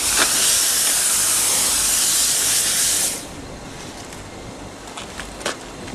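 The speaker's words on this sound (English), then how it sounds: "just from that steam blasting with the hot water injection" A loud, harsh hiss of 160 PSI commercial vapor steam cleaner blasting with hot water injection on a car for about three seconds, then stopping, leaving a quieter background with a few faint clicks.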